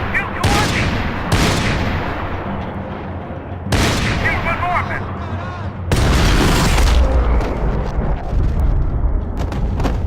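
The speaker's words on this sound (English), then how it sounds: "Shoot, Max, shoot" Loud, close bursts of gunfire and booming shots in the video game Max Payne 3 come in several heavy volleys with echoing tails, mixed with shouting voices.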